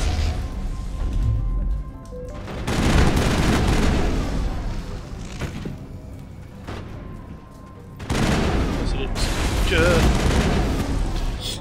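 Bursts of gunfire and impacts in the Mass Effect video game, a sniper in the fight, coming in loud dense volleys separated by quieter stretches, with a voice talking at moments.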